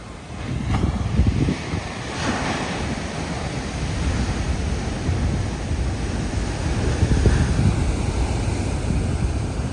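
Ocean surf on a rugged Big Island shore in Hawaii, a continuous low roar of waves with wind buffeting the microphone, steady and fairly loud throughout.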